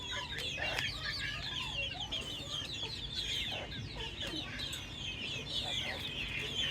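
Chickens cluck and chatter steadily, pecking at bread, a busy flock close by with overlapping calls and no talking.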